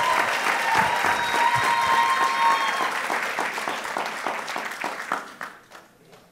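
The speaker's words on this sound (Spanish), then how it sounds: "Give that strong applause" A crowd applauds loudly and steadily, the clapping thinning out and fading toward the end.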